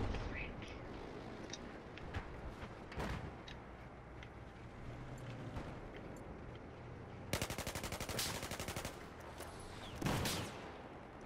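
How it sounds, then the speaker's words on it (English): Gunfire in Battlefield 4, with scattered single shots and two dense bursts of rapid automatic fire, loud and close, over a constant battlefield rumble. "I'm getting shot at."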